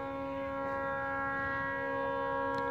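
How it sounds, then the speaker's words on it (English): A stuck fog horn at the Port of Everett blares at night as a continuous, unbroken multi-tone drone, loud and steady throughout with no voices. "This siren thing has been going off almost non-stop, apparently since about 11."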